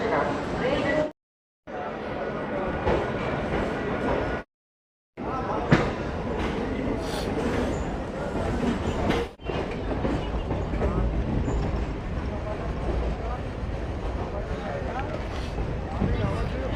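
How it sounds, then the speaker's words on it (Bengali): A passenger train pulls out from a station near Kolkata and runs along the line, its steady rumble and rattle continuous apart from two brief dropouts near the start, with voices talking over it. "আর ট্রেন ছেড়ে দিল"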